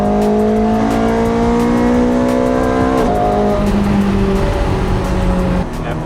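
A 4.3-litre sports car braking hard and turning, its loud engine note sliding through gear changes while tires squeal, close and continuous with no voices.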